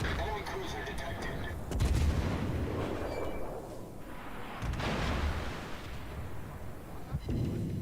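Warship guns in a naval video game fire heavy, booming salvos, with two loud blasts rolling into rumbling, crackling fire over a dense game soundscape.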